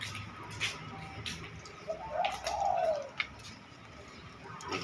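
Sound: spotted dove cooing

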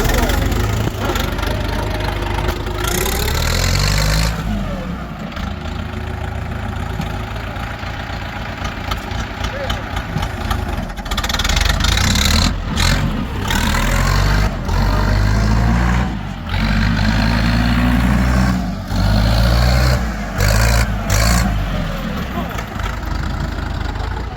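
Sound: tractor engine starting and idling

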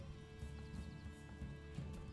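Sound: horse in the video game Manor Lords

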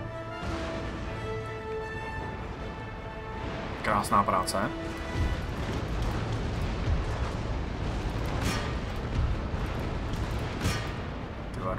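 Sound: artillery fire in Total War: Empire video game battle

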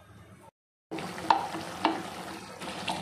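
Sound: paneer capsicum gravy with tomato and curd boiling

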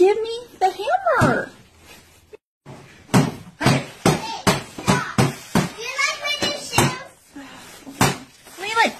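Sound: child smashing a TV with a hammer

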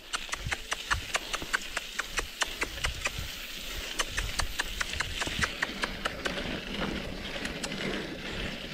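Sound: horse

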